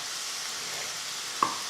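Potatoes fry in a pan with a steady, even sizzle that holds throughout, broken near the end by one brief clink or stirring knock.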